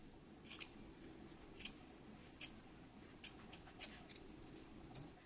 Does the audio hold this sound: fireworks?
no